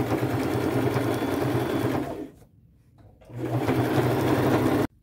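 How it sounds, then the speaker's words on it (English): A sewing machine stitches fringe along a denim jean jacket, running steadily and close for about two seconds, pausing briefly, then starting again in a second continuous burst that cuts off abruptly near the end. "I'm just stitching along that pretty much down in the center."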